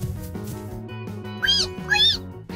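A cat gives two short, high meows in quick succession over a steady, humming musical background.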